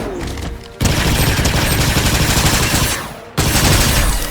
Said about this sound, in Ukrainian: Там хтось стріляється.